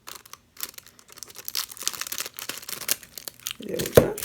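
Shrink wrap plastic being cut away from a packaged turmeric soap bar, a close, quiet run of crinkling and tearing rustles that ends in a louder crunch.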